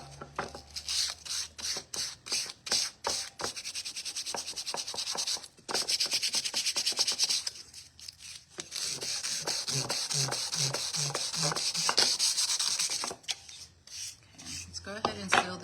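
Rhythmic back-and-forth sanding on a painted shabby chic wooden riser to distress it, quick rasping strokes in steady bursts with a short pause midway, close and fairly quiet.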